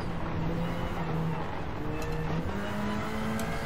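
Toyota Celica rally car engine droning steadily in the Gran Turismo racing game, a continuous moderately loud hum with faint tire noise, no talk.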